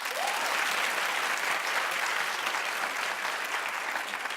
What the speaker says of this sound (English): just clap if you agree